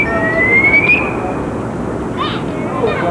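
A firefighter's personal alarm sounds at an indoor Cub Scout pack camp as a bright electronic tone rising steadily for about a second, then fading into a noisy room where people are talking.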